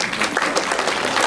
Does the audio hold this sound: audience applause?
yes